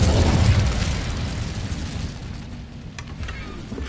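Spell blasts from the Confringo and Bombarda charms in the game Hogwarts Legacy: a heavy, rumbling explosion at the start that slowly decays into a crackling debris tail, with a couple of faint sharp pops near the end.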